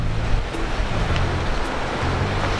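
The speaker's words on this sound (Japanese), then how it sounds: "あ、波が立ってますね。 あ、ちょっと今日荒いですね、" Rough surf breaks along a rocky Okinawa shore, a continuous loud roar of churning water with gusty wind buffeting the microphone and no talking.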